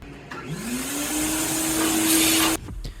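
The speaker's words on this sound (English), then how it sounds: "set the vacuum actually as a blower and just go in and blow away the larger leaves" A vacuum set as a blower spins up with a rising whine and then blows hard and steady at close range, clearing leaves from a 2002 GMC Yukon engine bay, before shutting off abruptly.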